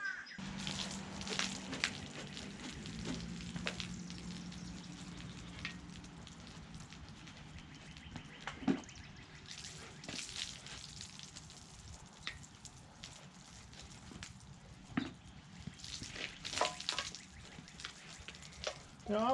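Big block Mopar stroker engine block for a 1970 Plymouth Barracuda being washed down outside, with irregular splashing and spraying water, intermittent bursts and drips, fairly faint, with a brief low hum early on.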